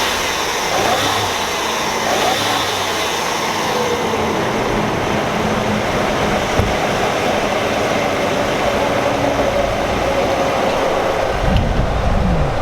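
A 100,000-mile BMW 750i M-Sport with a twin-turbo engine runs with a steady, continuous mechanical hum and rumble. A slight swell comes near the end, with no talk over it.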